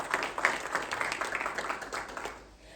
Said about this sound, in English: Can you please have a huge round of applause for Global Fintech Fest?